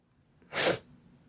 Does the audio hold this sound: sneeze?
yes